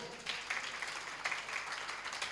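An audience at a Jain religious discourse claps in a soft, scattered patter that sounds distant and fairly faint, lasting a couple of seconds.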